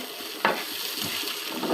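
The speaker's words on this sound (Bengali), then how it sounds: "বেগুনের চাক ভাজা কমপ্লিট। দেখুন তেল কত বের হয়েছে" Round eggplant slices frying in a pan of oil give a steady, close sizzle, with a quick scrape of stirring near the start.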